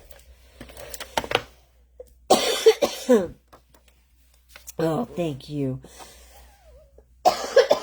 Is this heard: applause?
no